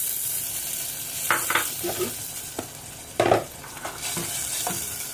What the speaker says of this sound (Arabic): صوت الطشه دي